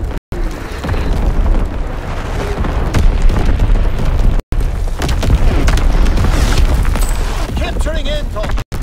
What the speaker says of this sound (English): Bomb mission underway.